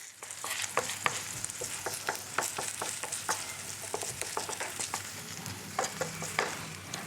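A grated potato pancake fries in a pan over a medium flame, a soft continuous sizzle broken by frequent sharp crackles and pops, close and fairly quiet, without speech.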